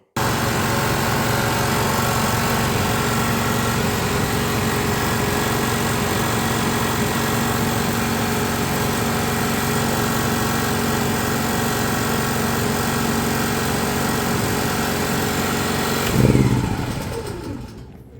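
A generator engine races at high revs and will not settle down. It makes a loud, steady, buzzing drone for about sixteen seconds, then briefly surges and dies away.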